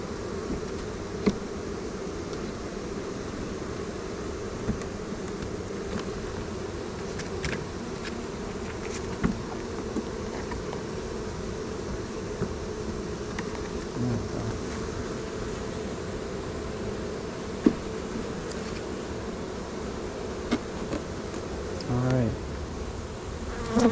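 Honey bees from a package hum steadily while being installed into a hive, a dense, continuous buzz with occasional individual bees passing close by.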